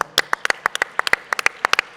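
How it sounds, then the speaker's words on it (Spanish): A few people clap together for teachers at a parenting congress, producing sharp, close, separate claps at an uneven, brisk pace, with no crowd behind them. "Y yo ahora lo que os pido es que nosotros 3 solos os demos un aplauso como padres a vosotros"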